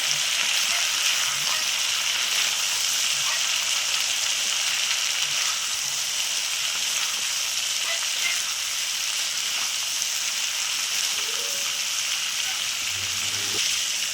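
Drumstick pieces and potatoes cook in a pan with salt and turmeric, a continuous bright frying hiss with faint stirring underneath that stays steady and fairly close.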